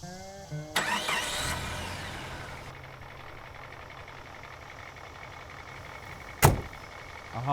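A truck door clunks shut, then the starter cranks and the engine catches and settles into a low, faint idle that runs steadily, followed later by a sharp clank and another thump near the end.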